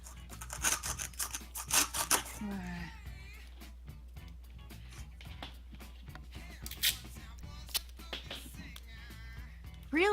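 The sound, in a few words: cutting with scissors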